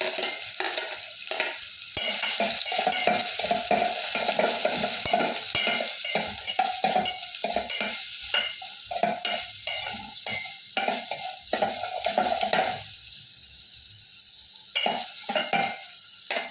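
Finely chopped large onion frying in a pan, with a steady close sizzle and repeated stirring scrapes and clicks throughout, easing slightly toward the end.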